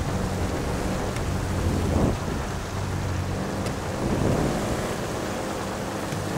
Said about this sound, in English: What kind of thunder was that?